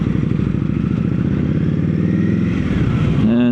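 An Indian Scout Rogue's V-twin engine, fitted with a Jekyll and Hyde exhaust, throbs in a loud, close, lumpy idle with a steady pulsing beat, swelling slightly into a rev at the very end.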